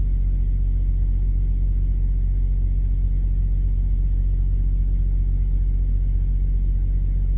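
A truck backing in nearby gives a loud, steady low-pitched engine rumble that continues unbroken throughout, heard close from inside a cab without talk.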